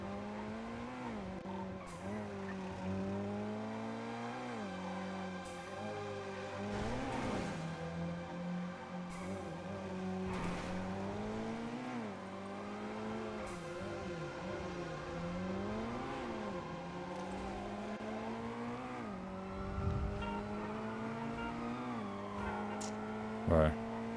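Racing car in a video game, engine whining up and down through gear changes with hard braking and tyre squeal, steady and fairly quiet under faint background talk.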